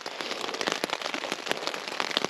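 Rain pattering and dripping onto a backpacking tent on a wet evening during a wild camp in Northumberland, dense irregular close-up taps and drops continuing throughout.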